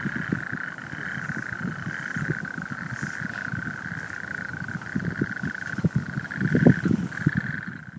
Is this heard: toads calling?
yes